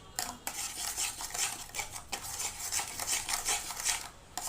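Mango pudding ingredients with a little brown sugar are stirred in a pot before the stove is lit, a close, continuous rhythmic scraping and clinking of a spoon against metal with brief pauses.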